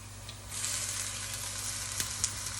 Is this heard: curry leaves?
yes